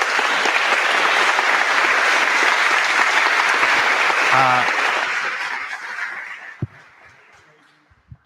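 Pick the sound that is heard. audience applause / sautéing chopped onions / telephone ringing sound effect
audience applause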